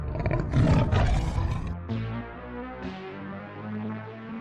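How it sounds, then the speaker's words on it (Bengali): A loud cartoon tiger roars in a village fairy-tale scene, one long rumbling roar that dominates the opening and then fades under a bed of background music. "ওরে বাবা, সত্যিই তো বাঘ!"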